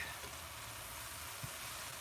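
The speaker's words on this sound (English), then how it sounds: "Let's get that garlic in there first. Get that sizzling." Garlic sizzles in a hot pan with a steady, even hiss of frying, fairly quiet and continuous with no talking.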